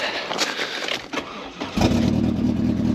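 A Vauxhall Astra Mk3 Premier, parked since 2018, cranks and catches after its spark plugs are refitted, the starter's uneven churn giving way at about 1.8 seconds to a steady, loud running engine idle.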